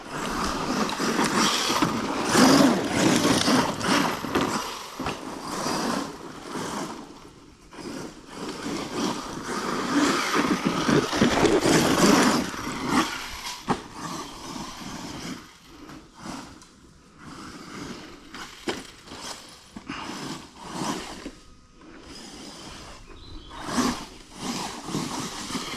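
An ARRMA Dirt Rat RC car with a Spectrum 1250kv electric motor runs nearby, its whine rising and falling in repeated bursts with scraping and rattling as it drives, loud at first and then more intermittent.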